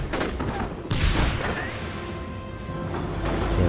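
Battlefield gunfire from the World War II strategy game Company of Heroes, a dense crackling fusillade with heavy bursts and booms running throughout, loud and continuous, with distant crashes mixed in.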